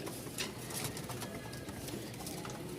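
Caged pigeons giving soft cooing calls amid a steady background hiss, fairly quiet and continuous, with faint bird sounds rising briefly.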